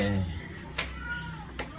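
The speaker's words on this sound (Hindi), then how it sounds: "ये बिल्ली की आवाज़ सुनने भी जाएंगे।" A cat meows twice, short plaintive cries about a second apart, fairly close, over a low background hum.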